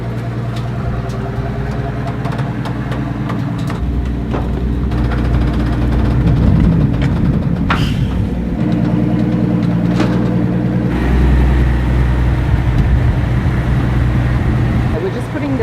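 The 700-horsepower V12 biturbo engine of a Maybach Exelero runs in a steady low rumble, close by, swelling a little midway and again near the end, with a voice speaking over it.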